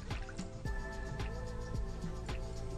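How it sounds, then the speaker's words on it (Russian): Orange Easter egg dye is poured into a container of blue dye, giving several distinct liquid drips and plops at an uneven rhythm, close and moderately loud. "В оставшийся синий наливаю половину оранжевого."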